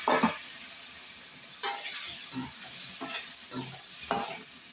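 Cauliflower is turned through a frying pepper masala in a pan, with a continuous sizzle and recurring scraping strokes of a spatula every second or so, close and clear, with no voices.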